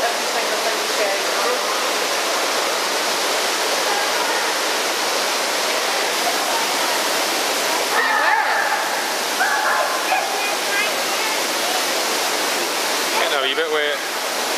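Artificial rain pours steadily in a rain room installation, a dense, even hiss of falling water throughout, with faint voices and a few brief tonal chirps near the end.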